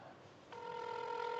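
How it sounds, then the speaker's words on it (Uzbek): A telephone ringback tone starts partway through a call to a prize winner, a steady electronic purr heard alone and fairly faint after a quiet line. "Hozir gudok ketadi."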